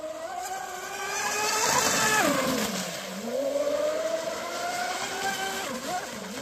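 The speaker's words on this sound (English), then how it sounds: "As long as it drives straight, I know it doesn't have no grass on it." A radio-controlled Twin Cheetah boat running on a Seaking 180 ESC with big-capacity battery packs and strut modifications, its motor whining loudly and rising and falling in pitch as it speeds across the water, with no voices.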